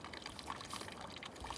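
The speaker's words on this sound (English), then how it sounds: "I'm just gonna fill up some water at this nice spring here at sheep camp." Spring water at a backpacking camp on Mt Pinos pours into a one-liter bottle, making a faint, steady, gurgling trickle heard alone.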